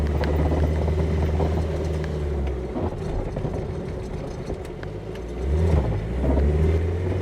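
A Fiat 125p 4x4 engine revs loudly and continuously nearby, with the pitch dipping and then climbing again as the throttle is pressed.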